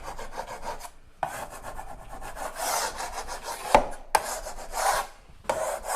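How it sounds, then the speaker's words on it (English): Close rasping scrapes of a 5-way tool taking loose material off drywall, coming in repeated strokes with short pauses between passes and a couple of sharper knocks. "And we're going to scrape all that loose off of there."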